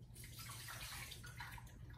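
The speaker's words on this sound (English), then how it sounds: "let me go ahead and dump out the water," Water is dumped out of a can during a physics demonstration, a faint splashing and gurgling pour with a few drips, quiet and close.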